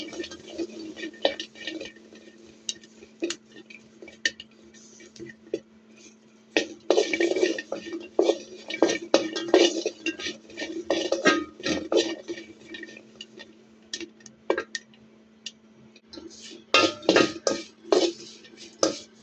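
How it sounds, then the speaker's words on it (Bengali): Chilies, including green chilies, frying in a wok: irregular sizzling pops and crackles with clinks of a utensil against the pan, moderately close, continuing for the whole stretch without talk. "প্রথমে আমি মরিচগুলো একটু ভেজে নিব।"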